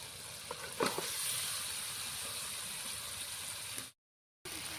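Spice-coated shol fish fry in hot oil, making a loud, steady, close sizzle that runs without a break before cutting out briefly near the end.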